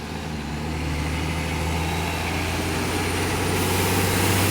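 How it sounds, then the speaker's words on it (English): A log truck drives through a small rural Alabama town, its heavy diesel engine rumbling steadily and growing slightly louder as it approaches, with no voices over it. "we got us a good shot of a log truck coming through town"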